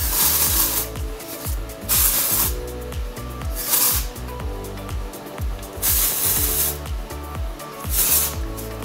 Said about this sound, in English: just put a little bit of spray.